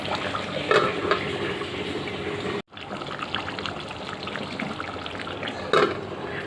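Duck meat cooked with coconut, fried cumin powder and green chili sizzles steadily in a pan, with soft stirring and a brief break partway through.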